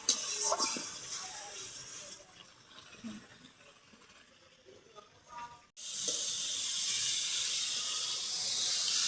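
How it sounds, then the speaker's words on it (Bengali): Garlic paste and spices fry in hot oil for a magur fish curry with potatoes and tomatoes: a soft hiss and a few utensil knocks, then a loud, steady sizzle bursts up and keeps going close by. "এই যে দিয়ে দিলাম একটু রসুন বাটাটা দিয়ে আর একটু মশলাটা সুন্দর করে কষাই নিই"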